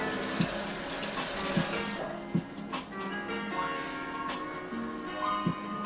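Cold tap water pours into a sink while limes are washed, a continuous close splashing flow broken by a few sharp knocks and clicks of fruit and hands moving in the basin.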